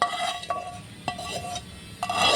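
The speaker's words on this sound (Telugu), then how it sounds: "ఇప్పుడు మనం దీంట్లోకి తాలింపు అనేది యాడ్ చేసేసుకుందాం" Metal spoon clinking and scraping against a pot as tempering is poured and stirred into raw tamarind soup (pachi pulusu), a few light clinks over steady stirring noise, no voices.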